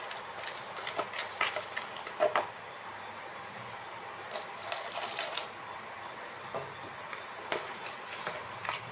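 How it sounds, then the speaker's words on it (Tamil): Water is poured into gram flour batter in a bowl and stirred in, giving a soft continuous wet swishing with light intermittent clinks, close and fairly quiet. "இப்போ இதில் தண்ணி சேர்த்து தோசை மாவு பதத்துக்கு கரைச்சிக்கலாம்."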